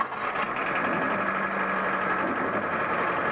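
A 1996-2000 Honda Civic engine, just back together after a head gasket job and running rich, idles roughly with a steady uneven chug and faint knocking, close and continuous with no talking.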